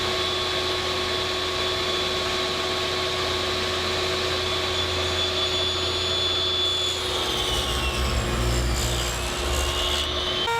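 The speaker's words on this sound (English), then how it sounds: "I can just make the cut, rotate the piece, and make another cut to get a perfect square." A saw cutting a small wooden piece set against a stop block while making a pencil holder, with a steady, loud whine throughout that roughens and shifts as the blade bites into the wood near the end.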